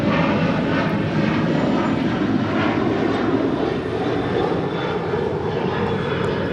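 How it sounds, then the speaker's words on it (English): An Alaska Airlines Boeing 737-900ER in One World livery departs LAX for Seattle, its jet engines giving a loud, steady roar that holds evenly for the whole stretch, with no voices over it. "1172 departing to Seattle on a 737-900 ER in the One World livery"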